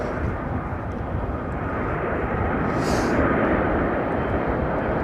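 A jet airliner's engines spool up at Heathrow's runway 27L, a loud, steady broadband roar that holds throughout and swells slightly toward the end, with no voices.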